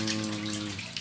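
Water runs steadily into a concrete fish pond as it is refilled, a continuous close-up splashing flow with a brief louder burst at the very end.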